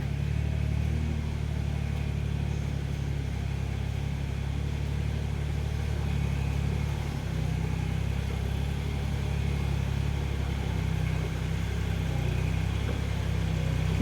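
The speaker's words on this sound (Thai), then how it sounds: "เวลารถไถวิ่ง" A tractor engine drones steadily and loudly while driving along a rough road, with one slight shift in its pitch partway through and no talking.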